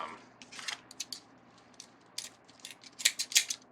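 Scissors snip through fabric deco mesh for a Christmas wreath, a string of quick, close, crisp cuts in uneven bursts that grow louder toward the end, with no talk over them.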